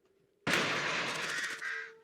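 A sudden loud, harsh cawing of crows from the film 28 Days Later bursts in after near silence, a raspy sustained clamour that slowly fades.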